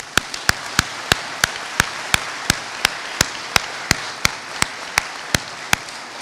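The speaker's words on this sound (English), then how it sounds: "Ladies and gentlemen, would you please join me in giving the team of teams and Bluegrass Nation and yourself a round of applause." Slow, evenly spaced single claps from a graduation audience at a Bluegrass Challenge Academy ceremony, sharp and distinct, about three per second over a quiet background.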